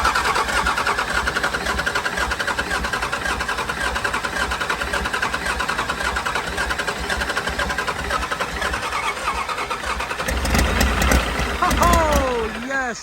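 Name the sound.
Cummins diesel truck engine starting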